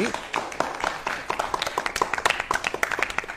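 Audience clapping for a young boy who has recited the Bhagavad Gita, a dense run of sharp hand claps building steadily and sounding fairly close, without speech over it.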